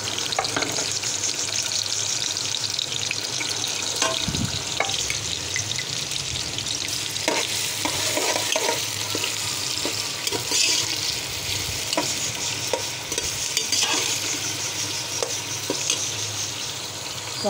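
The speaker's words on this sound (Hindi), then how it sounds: "प्याज को ब्राउन कर लेते हैं" Finely chopped onions sizzle steadily in half a cup of hot ghee as they brown, a close, continuous frying hiss broken by the occasional clack and scrape of stirring.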